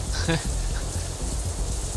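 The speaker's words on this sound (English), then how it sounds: "it's still raining outside when we exit the Shanghai" Steady rain falling in the visual novel Katawa Shoujo, a continuous broadband hiss that runs through the whole moment, with a voice briefly audible near the start.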